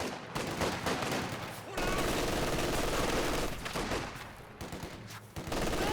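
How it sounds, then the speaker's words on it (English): An MG42 machine gun fires in a video game, loud rapid bursts with short gaps between them, over a dense battle din. "And there goes Mmarttool with the MG42"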